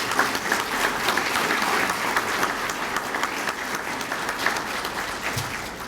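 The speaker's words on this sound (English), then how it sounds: "How about a round of applause for Tracy?" An audience at a Citizen of the Year awards event applauds for Tracy, named Educator of the Year, with steady, dense clapping that fills the room and holds evenly at moderate volume throughout, with no talking over it.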